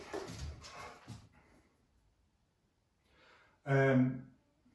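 A dog gives a few soft, scattered vocal sounds, then one short, loud bark close by after a quiet pause.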